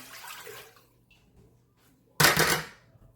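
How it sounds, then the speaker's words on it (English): Warm tap water splashes into a bowl for sandwich bread dough, first as a soft pour and then as a louder, fuller rush of about a second near the end, with quiet kitchen noise between. "So the recipe calls for 2 cups of warm water. You can use tap water."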